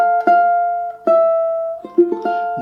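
A ukulele barre chord strummed in a quick-long rhythm, with several bright strums that ring out between short accents, played alone and close.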